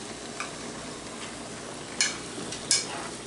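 Hamburger and onion being stirred in a pan, a soft steady sizzle with a few brief clinks of the utensil against the pan, fairly quiet and close, no talking.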